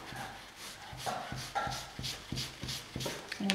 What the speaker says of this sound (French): Le bruit que vous entendez, c'est mon chien qui est en train de manger son jouet.